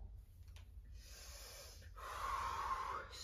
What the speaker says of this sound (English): Inhale on the way up, and exhale on the way back down